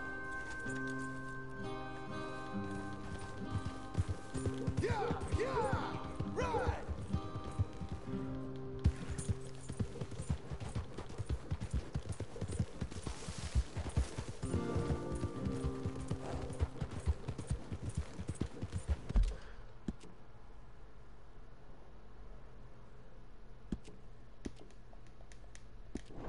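Steady clip-clop of horse hooves in Red Dead Redemption 2, a rhythmic, fairly close trotting cadence layered with ambient game sounds and faint music. It thins out near the end.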